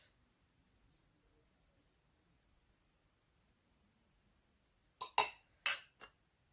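Several quick scrapes and taps of a spoon scooping ground rice in a bowl, a faint clink early on, then a burst of four or five crisp scraping strokes near the end, close and fairly quiet.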